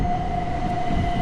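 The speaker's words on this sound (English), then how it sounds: "we are now back at Three Bridges station, waiting for the train back to London Bridge" Ambience on the platform at Three Bridges railway station, waiting for a London train: a constant low rumble with a thin, steady whine held over it, even and unbroken throughout.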